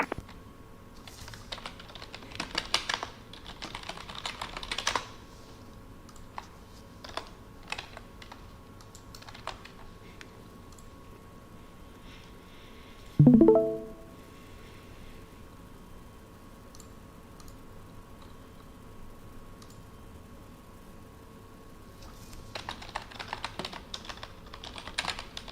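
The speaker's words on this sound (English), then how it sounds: "Sorry if you guys can hear my keyboard typing." Computer keyboard typing in bursts of soft, close clicks at the start and end, separated by a quiet stretch broken by a brief tonal chirp.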